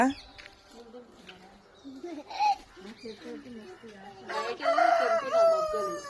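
A farm rooster crows twice, loud and close, once briefly early and again in a longer call near the end, among clucking fowl while people talk nearby.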